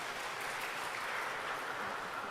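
A church congregation claps for two children, a steady, even wash of applause from many hands at moderate distance, with no voices heard over it.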